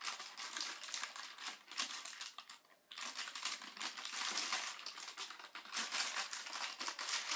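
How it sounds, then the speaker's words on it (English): Crinkly, crackling rustles come close up as a Perler bead design is peeled off wax paper, arriving in uneven bursts with a brief pause near the middle and no talking. "just peel your design off your wax paper"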